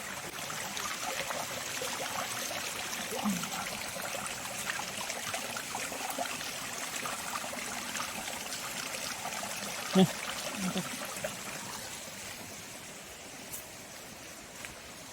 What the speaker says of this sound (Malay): Tu air.